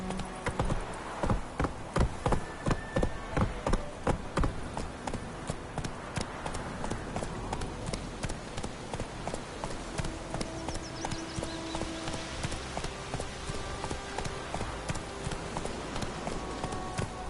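Roach the horse galloping across open ground in The Witcher 3: Wild Hunt, a steady rapid clip-clop of hooves running close and continuous throughout, with no talk over it.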